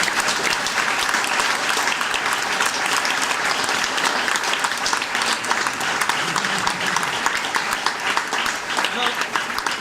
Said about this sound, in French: Bravo à eux et à nos meilleurs applaudissements